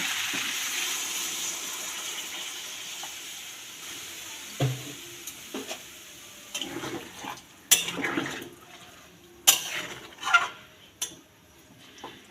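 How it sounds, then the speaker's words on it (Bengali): Water is poured over spiced, fried cauliflower, potato and pea curry in a cooking pan, a hissing rush at first, then quieter simmering broken by several sharp clinks and knocks of utensils against the pan. "এবার জল দিয়ে দিলাম"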